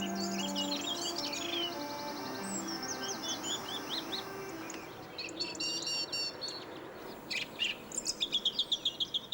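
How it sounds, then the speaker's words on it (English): Two song thrushes in an urban setting sing repeated bright, varied phrases close by, joined by other chirping birds, with a steady hum of distant traffic underneath. "That's 2 of our very common song thrushes."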